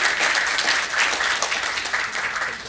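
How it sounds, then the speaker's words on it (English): Applause for a panelist at a lending-technology panel discussion: a steady, moderately loud crowd clapping that runs evenly throughout without a clear start or end. "Huge round of applause for him as well."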